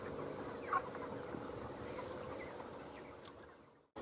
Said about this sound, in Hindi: तो इस फार्म में जो मुर्गे हैं दोस्तों